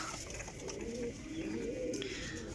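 Close, soft cooing of pigeons, a low rolling burble repeated a few times over a faint steady background.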